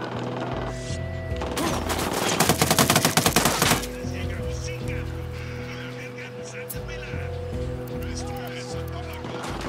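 Rapid automatic gunfire in a military shooter game, a dense burst of machine-gun shots lasting a couple of seconds amid droning music and ambient noise, with speech beneath.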